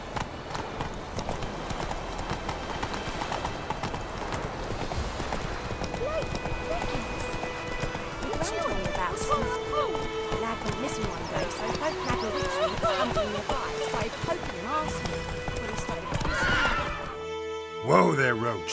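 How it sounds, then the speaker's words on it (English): Horse hooves clip-clopping with whinnying and neighing in The Witcher 3 video game, steady galloping rhythm throughout with game music and voices, ending in a louder neigh as the horse is reined in. "Whoa there, Roach."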